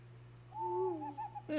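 A short, clear synthesized owl hoot from the Ironbeak Owl card in the Hearthstone video game, one wavering call followed by a brief bright game chime.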